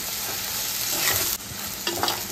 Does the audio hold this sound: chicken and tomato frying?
yes